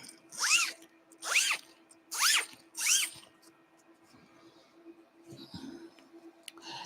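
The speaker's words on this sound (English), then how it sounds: "This zip I have right here is a continuous zip." A continuous sewing zip being pulled in four quick, close, rasping strokes, each about half a second long, followed by softer handling rustles. There is no talking.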